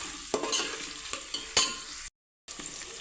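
Onion fries in a pan for Maharashtrian mutton pulao, a close, steady sizzle broken by several scraping stirs of a utensil, then a sudden moment of silence before the frying resumes.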